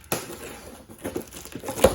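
Scissors slice open a cardboard box holding a Kino Lorber Blu-ray order, with crisp crinkling and crunching of packaging, a sharp rustle early on and more bursts of handling later, close and fairly quiet.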